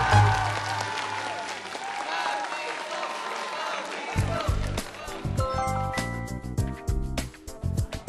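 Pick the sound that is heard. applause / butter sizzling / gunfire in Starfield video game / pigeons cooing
applause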